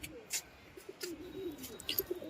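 A pigeon coos softly on a rooftop beside a net. The calls are faint and close, with a few brief chirps and flutters over quiet background noise.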